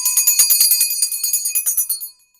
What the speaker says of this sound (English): And my mom's bell.